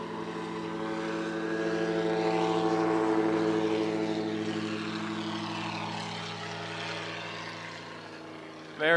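A STOL propeller aircraft flown by Lane Williams on his third and final takeoff at the 2026 Valdez Fly-In & Air Show competition drones loudly, swelling as it climbs away and then gradually fading.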